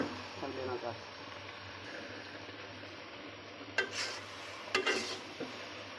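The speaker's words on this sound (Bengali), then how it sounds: "আস্তে আস্তে নাড়তে হবে যাতে আমগুলো আউলে না যায়।" Mango pieces being stirred gently in a pan, a soft continuous scraping with a faint sizzle, broken by two or three louder clinks of the spoon against the pan.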